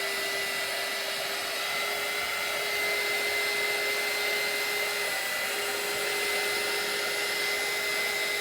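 A hair dryer blows steadily and loudly at close range for the whole stretch, drying chalk paste on a t-shirt, with a constant whine and no talk.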